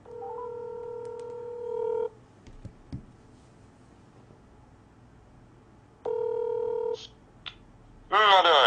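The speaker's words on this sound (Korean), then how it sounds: "일단 아빠한테 10일 동안 밖에 못 나간다고 전화를 일단 하도록 하겠습니다" Telephone dialing tones on a phone, two bursts of steady electronic beeps separated by quiet with small clicks, followed by a brief ringing tone at the end.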